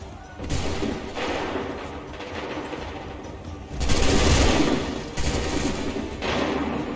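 Musket volleys crack out in Assassin's Creed III, loud broadband bursts that rise and fall in waves, with a heavier rolling volley in the middle and more rounds following close after.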